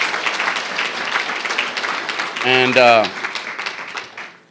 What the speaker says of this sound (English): I'd like to give them a big old clap for that